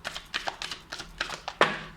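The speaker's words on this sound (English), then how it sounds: "I'm just going to shuffle again." Quick, crisp papery flutters and taps from a deck of cards being shuffled repeat in short bursts, ending with a sharper snap, close by and fairly quiet.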